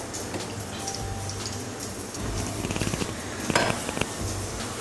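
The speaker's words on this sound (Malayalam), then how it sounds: "അതിലേക്ക് ആവശ്യമുള്ള റിഫൈൻഡ് ഓയിൽ ഒഴിച്ചു കൊടുക്കാം." Refined oil pours into a hot pan for tawa chicken, giving a soft sizzling crackle with small metallic clinks of the pan, fairly close and with no talking.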